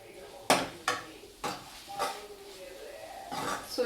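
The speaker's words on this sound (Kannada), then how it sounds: "ಸೊ ಇವಾಗ ಇದು ಫ್ರೈ ಆಗ್ತಿದೆ." Hesaru kaalu palya with tomato and tamarind frying in a pan, marked by a few sharp spatula knocks and scrapes against the metal over a light sizzle, close by, while someone talks.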